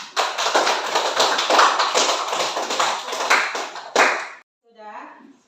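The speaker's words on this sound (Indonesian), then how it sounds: "Tepuk tangan." Classroom clapping during a lesson, a quick run of close, sharp hand claps at a steady rhythm for about four seconds, then a voice briefly after it stops.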